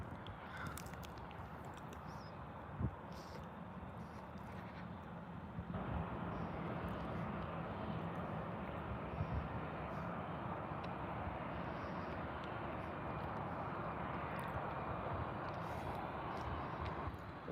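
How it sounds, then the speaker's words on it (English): A Turkish Airlines A321 taxiing at Birmingham Airport, a steady distant engine hum that rises slightly partway through, faint and unbroken, with no talking. "Our next departure, just taxiing, is Turkish Airlines A321."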